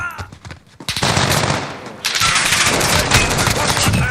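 Rapid automatic gunfire and bursts of shooting in Call of Duty multiplayer, loud and dense, starting after a brief lull and continuing nearly nonstop with heavy overlapping shots.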